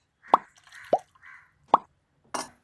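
Water going into a simmering Kerala fish curry (meen curry) gives four distinct, close plops and splashes, spaced with brief quiet gaps between them.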